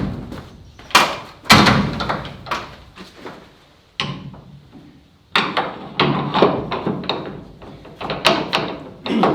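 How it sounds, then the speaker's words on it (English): A loose barn door rattles and knocks repeatedly in its fully down position, with sharp clanks and thuds in irregular bursts, close by and loud. "So in its full down position, it's loose, it's rattling."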